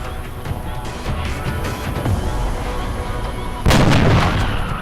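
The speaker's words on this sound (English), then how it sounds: "Alright, John has the shot." A soldier's gunshot in the video game XCOM Enemy Unknown, one sharp loud report near the end, after a stretch of rumbling, crackling game ambience.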